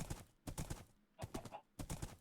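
Video game horse hooves clip-clop in quick rhythmic clusters of beats separated by brief gaps, faint and steady.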